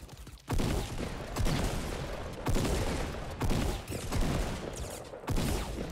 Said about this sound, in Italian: Ho dovuto sparare con la mia pistoletta perché ho finito i soldi